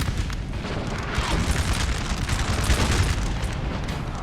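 French artillery fire in Napoleon: Total War, a continuous battlefield din of booming cannon and crackling volleys, dense and steady throughout with no clear pauses.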